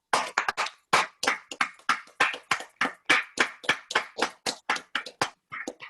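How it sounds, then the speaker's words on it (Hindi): An audience claps to welcome a guest onto a stage, with about twenty sharp, evenly paced bursts of applause in a steady rhythm, each rising quickly and fading, close and fairly loud, with no talking over it. "आप सभी लोगों से तहे दिल से बोलती हूँ कि आप लोग सब लोग तालियां बजाकर स्वागत करेंगे"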